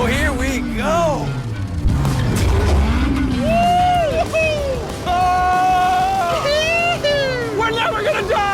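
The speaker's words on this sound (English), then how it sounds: "There's just something so masculine about driving overpriced, loud cars On a private racetrack." A loud, expensive car roars around a private racetrack, its engine revving up and down in sweeping pitch changes, while several people talk and shout excitedly over it throughout.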